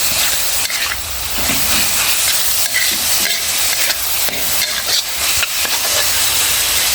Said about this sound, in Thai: ให้เข้ากัน ผัดหมูต่อไปให้สุก